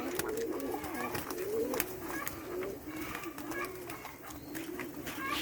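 Racing homer and roller pigeons splash about in a summer bath treated with borax, steady low cooing beneath a busy layer of flapping, dripping water and scattered bird calls, fairly close throughout.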